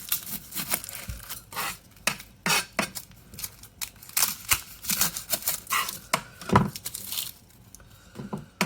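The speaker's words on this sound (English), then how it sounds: "So let's chop an onion." A knife chopping an onion on a board in a home kitchen, a quick irregular series of sharp taps close by, fairly quiet, with no voices.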